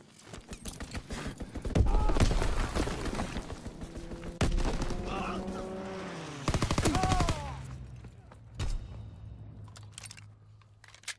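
Bursts of rapid automatic gunfire and heavy impacts from an enemy strafing run in the military shooter Squad, loud and close, rattling on and off with mechanical clatter between volleys.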